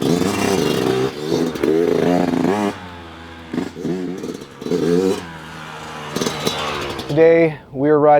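A 2020 Yamaha YZ125X two-stroke cross-country dirt bike revs hard and repeatedly on tight technical clay trails in the woods, its loud, close engine surging and dropping through throttle blips, with a sharp climbing rev near the end.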